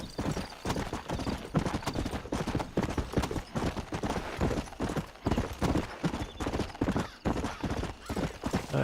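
Steady clip-clop of a horse's hooves as it is ridden across open ground in a video game, a continuous loud rhythmic gallop with an occasional whinny and no talk.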